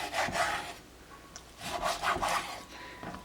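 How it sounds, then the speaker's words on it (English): A knife slicing raw skin-on chicken into bite-sized pieces, giving repeated rough, rasping cuts in short bursts, close and moderately quiet with no talk. "I just try to cut them into bite-sized pieces with the skin"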